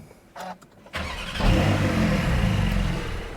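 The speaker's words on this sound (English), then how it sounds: "it's very hot, so I'm going to start the car up" A Porsche 911 Turbo S (992.1) engine cranks and catches after a few clicks, then settles into a steady, loud rumbling idle.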